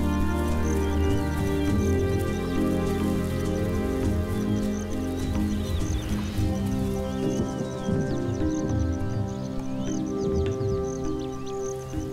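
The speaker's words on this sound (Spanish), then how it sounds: "A finales de octubre llega una vez más la temporada de la lluvia." Steady rain falls across a wild landscape during the late-October rainy season, a dense continuous hiss of drops hitting foliage and ground with faint bird calls and scattered patters, no talking.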